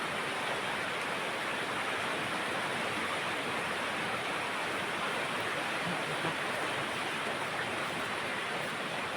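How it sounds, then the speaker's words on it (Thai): A mountain stream and waterfall pour steadily in a dense, even rush of flowing water, constant and unbroken, with no voices. "เสียง น้ำตกเสียงลำธารไหล"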